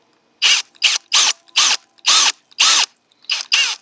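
A rotary tool mills a pocket into a Schrade SC90B knife, giving eight loud, sharp bursts of high whining grind in quick succession, each cut short with silence between.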